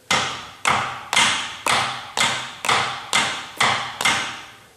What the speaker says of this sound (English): here's our piston knock if you listen carefully